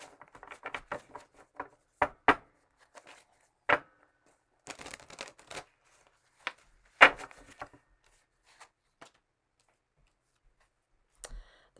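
Tarot cards being shuffled by hand: scattered soft flicks, riffles and paper clicks in irregular bursts separated by quiet gaps, close and fairly faint, with no talking.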